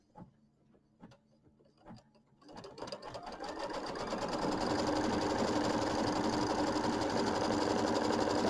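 Embroidery sewing machine stitching quilt blocks, a few isolated clicks then the motor spins up into a fast steady mechanical rattle of rapid stitches, close and continuous.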